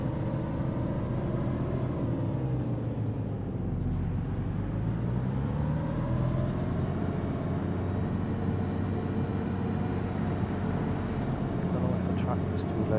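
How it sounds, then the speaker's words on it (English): Tractor engine in Farming Simulator 25 drones steadily throughout, a loud continuous low rumble with a slight pitch dip and recovery partway through. "I don't know if the tractor's too loud, guys."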